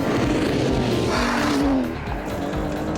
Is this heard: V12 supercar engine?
yes